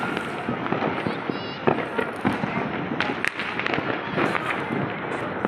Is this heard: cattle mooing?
no